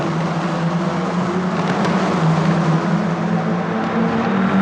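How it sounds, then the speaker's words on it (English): Italian F4 single-seaters at Mugello pull away from the starting line in a race, giving a continuous, dense engine drone with rising tones that stays loud throughout. "We race and Kasper rockets off the line."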